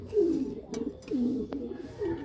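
Pigeons coo close by in soft, rolling calls, three distinct coos across a couple of seconds. Faint rustles and small knocks sit in the background.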